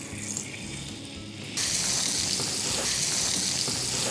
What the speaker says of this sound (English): So we'll put little water in this.